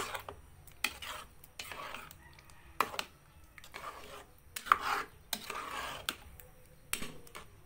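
Spaghetti sauce is stirred in a pot, with a quiet series of scraping and clinking utensil strokes against the metal, spaced irregularly over a low background.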